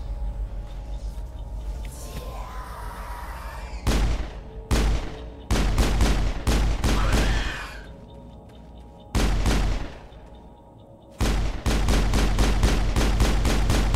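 Video game gunfire cracks out in sharp bursts and single shots with pauses between volleys, loud and close over a constant background of game ambience, with no talking.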